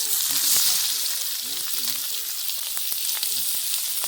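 Garlic, cumin, whole black peppercorns and chopped onion hit hot oil in a pan, giving a steady, close, dense sizzle that holds for the whole stretch, with a faint voice murmuring underneath.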